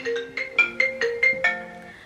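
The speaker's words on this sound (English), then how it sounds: "Well, guys, I'm getting a phone call." A phone ringtone for an incoming call plays a quick melodic sequence of bright electronic tones, about seven short notes in a row, clear and close with no talk.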